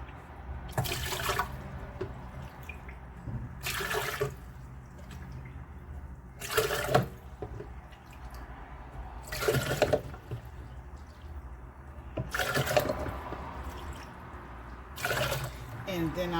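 Water poured into a Ninja blender for plant-based baby formula, arriving as about six separate splashing pours spaced a few seconds apart, with a person talking between them.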